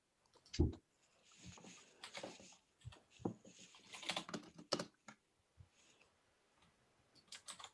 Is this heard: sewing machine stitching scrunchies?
no